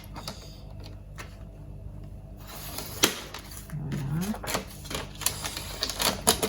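Laminated paper being cut flush to its edge, giving a run of crisp, close clicks and snips of uneven rhythm over quiet room tone.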